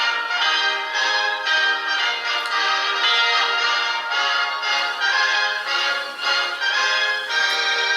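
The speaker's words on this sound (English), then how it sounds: "It shows the Liberty Bell swinging." Liberty Bell swinging and ringing in steady, overlapping peals that sustain throughout, loud and continuous with no voices.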